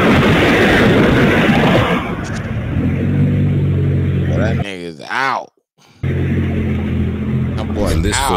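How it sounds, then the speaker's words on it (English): A Mercedes car speeds through city streets in the early morning, its engine rumbling loudly and steadily before briefly cutting out, then returning. "we hear gunshots and then that same Mercedes car speed through the streets"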